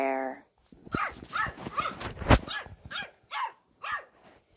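A puppy barks and yips in a quick series of short, high, fairly close calls, with a brief whine at the start.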